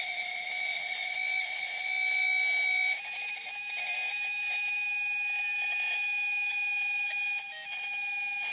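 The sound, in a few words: detector self-check beep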